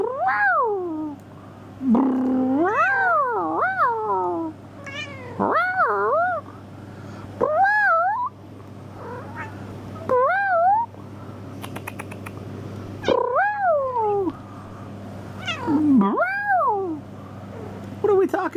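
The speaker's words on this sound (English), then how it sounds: "So, again, this is a cat" A pet cat meowing repeatedly in a long back-and-forth series of clear, close, drawn-out rising and falling meows with short pauses between them, while a person talks to it in between.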